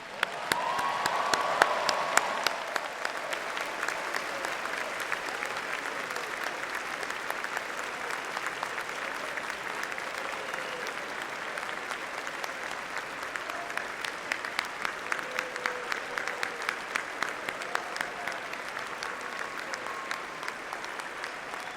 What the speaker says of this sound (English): I ask all graduates to stand and applaud those around you who supported you